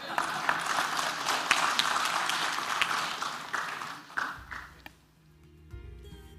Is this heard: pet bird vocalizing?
no